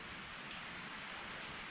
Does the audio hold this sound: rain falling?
yes